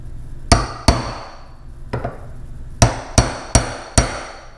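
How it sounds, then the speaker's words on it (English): A metal punch is tapped into an orifice on a 6 hp Johnson Evinrude outboard carburetor to seal it. About seven sharp, close hammer taps ring out in uneven pairs and singles, each decaying quickly, with no speech. "You're going to center it up on the hole and then tap it down into the orifice."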